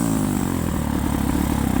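A poorly running motorcycle engine, either a Suzuki DR650 or a Honda Hawk 250, idles roughly with an uneven, lumpy throb and a close, loud, steady rumble.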